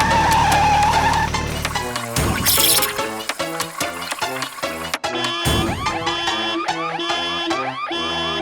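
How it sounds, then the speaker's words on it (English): A cartoon truck skids with a high squeal, then crashes into barrels in a burst of clattering impacts, followed by a busy run of rhythmic banging and clanking effects over music, loud and close throughout. "Suddenly, the truck slightly loses control and crashes into the barrels."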